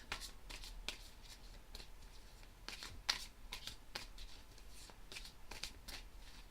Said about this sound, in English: I will shuffle a little bit more.